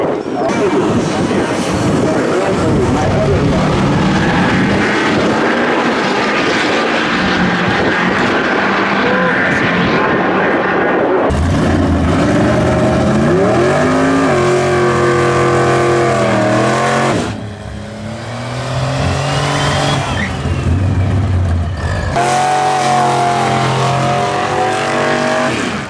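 Mazda RX-7 racing against a 6.4 Silverado, loud engines roaring and revving close by throughout, with a shifting, changing tone as the cars accelerate.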